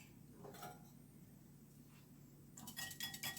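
Eggs are whisked in a bowl for a bacon and cheese omelette, giving a few faint, quick clinking taps of utensil against the bowl in a quiet kitchen.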